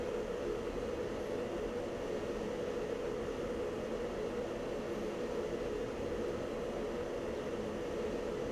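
Steady, dense engine roar of a fighter jet in the Falcon BMS flight simulator, a constant broadband rushing drone with no breaks and no talking.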